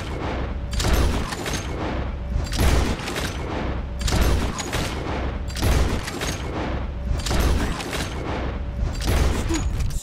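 Repeated loud gunshots aimed at birds in Red Dead Redemption 2, roughly one sharp booming report every second and a half, each with a rolling echoing tail over an outdoor ambience.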